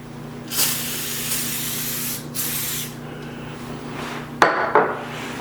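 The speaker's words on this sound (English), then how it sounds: "So we're going to go ahead and spray it with this." Cleaner sprayed from a trigger bottle onto old silicone shower caulk, a few short hissing spritzes spread across the moment, close and fairly loud over a low steady background hum.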